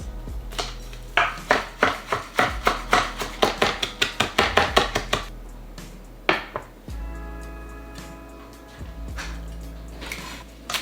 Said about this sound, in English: Then we're just going to chop some parsley and some chives.